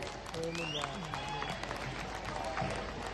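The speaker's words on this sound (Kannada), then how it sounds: "ಅದಕ್ಕೊಂದು ಜೋರಾದ ಚಪ್ಪಾಳೆ ಕೊಡಬೇಕು" Audience applauding a school at a Vivek Vidya Samsthe school and college annual day function in Mandya, a continuous crowd clapping with voices and murmur mixed throughout.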